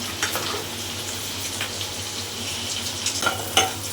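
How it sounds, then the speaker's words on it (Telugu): Onions frying in ghee until golden, a steady close sizzle with a low hum underneath and a few brief stirring clinks and scrapes near the end. "ఆనియన్స్ గోల్డ్ కలర్ వచ్చే వరకు ఫ్రై చేయాలి"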